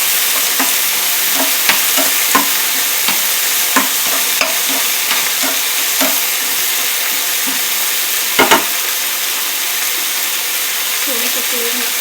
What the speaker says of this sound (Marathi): भाजीला जरासं लसूण आणि मिरची परतून घ्यायची.